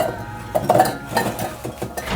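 Medium-sized chopped potatoes dropping into a steel mixer grinder jar in a home kitchen, a few close clattering knocks and clinks in quick succession, no voice.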